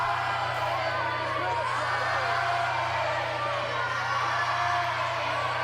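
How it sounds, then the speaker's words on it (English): At a wrestling show, an indoor crowd keeps up a steady roar of cheering and whooping for wrestler Antonio Banks, with a low hum beneath and a commentator talking over it. "The crowd really coming to life here for this one."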